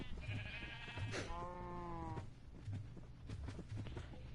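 Sheep bleat in the game Minecraft, several wavering bleats at moderate volume over a faint, steady background.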